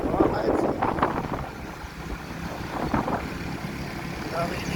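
Steady wind and water noise out on open sea near large boats, with broad rumbling texture and occasional brief voices in the background.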